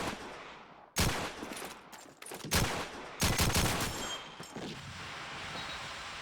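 Bursts of gunfire from the World War II shooter Call of Duty 2, a competitive LAN playoff match on the Dawnville map: several loud, sharp volleys and rapid shots in quick succession, then a steadier crackle of more distant fire.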